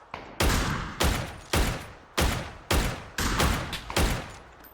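Loud bursts of PUBG gunfire, about six heavy volleys each lasting a fraction of a second, repeating in a steady rhythm with no talking.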